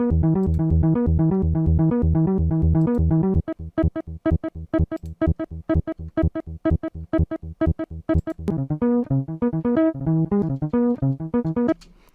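Bass clip sliced into a stuttering pattern by Loopcloud 6, first a steady sustained riff, then rapid rhythmic choppy pulses with gaps, ending in a busier melodic run, loud and alone.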